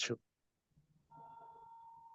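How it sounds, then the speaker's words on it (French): A telephone rings indoors, a steady electronic ring that starts about halfway through and holds to the end after a short burst of voice and a brief pause. "Il y a un téléphone qui sonne."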